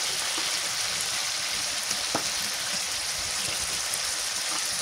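Fish roe sizzles in a pan of boiling spice mix, a steady, even hiss with faint bubbling and no talking.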